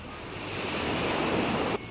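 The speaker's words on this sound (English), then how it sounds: "So we have our ocean sounds." Steady wash of ocean waves and surf for a beach ambience, a broad continuous rushing roar building slightly then holding, with some wind noise mixed in and no voices.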